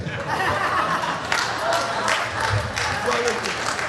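Concert audience clapping at a singer's performance in Brampton, moderate applause mixed with crowd chatter and some laughter, with a voice speaking over it.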